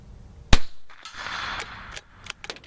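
A Savage Mk II FV-SR rifle fires high velocity ammo at 100 yards: one sharp, loud crack near the start, followed by a brief ringing tail and a few faint clicks and knocks.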